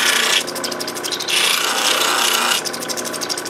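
A Lightning Ridge crystal opal pressed against an ultra fine polishing wheel, giving a close, steady raspy grinding with short breaks as the stone is lifted and reapplied.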